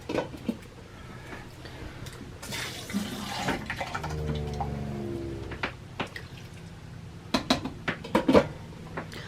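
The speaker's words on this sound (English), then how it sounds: "So you're adding the beans." Beans tipped into a pot of Quartzsite chili cooked in an RV in the desert: a wet sliding pour and plop, then clinks of a spoon or can against the pot, close by.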